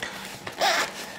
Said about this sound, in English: the zipper comes with a little thing, very easy to open